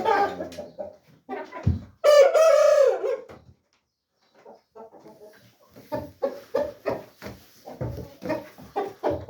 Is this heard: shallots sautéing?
no